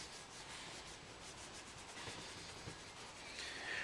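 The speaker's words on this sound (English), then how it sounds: "Might as well clean that mud flap bit off with the last bit we got left there." A cloth rubs mud off the rear mud flap of a Land Rover Freelander 2 during bumper bodykit fitting. Faint, steady scrubbing runs throughout at a low level.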